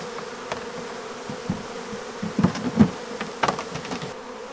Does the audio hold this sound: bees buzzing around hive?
yes